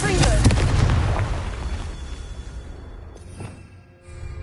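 A Confringo fire spell in Hogwarts Legacy bursts with a loud booming explosion that rolls off into a fading rumble, followed by a smaller second impact near the end.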